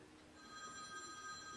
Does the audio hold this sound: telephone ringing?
yes